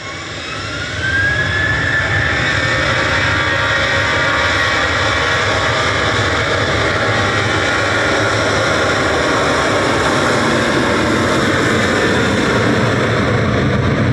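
An Eastern Airways aircraft at Manchester Airport roars loudly and steadily, its jet engine noise swelling in the first second and then holding a sustained whine and rumble throughout, with no voices.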